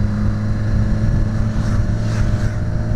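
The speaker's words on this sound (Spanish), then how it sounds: "Joder, que pila motos baja" A group of motorcycles rides past on a mountain road at the start of the Tourmalet in the Pyrenees, a loud steady engine drone mixed with wind rush heard from a moving bike, with no talk.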